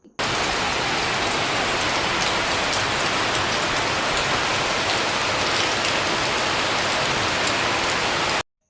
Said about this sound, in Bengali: ভীষণই জোরে বৃষ্টি হয়েছে